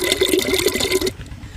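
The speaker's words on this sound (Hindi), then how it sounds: "थोड़ा पानी डालते हैं" Water pours into a clay pot steadily with a bright trickling splash for about a second, then cuts off, leaving quiet room noise.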